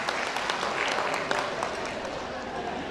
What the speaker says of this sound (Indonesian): Beri tepuk tangan 350 kali.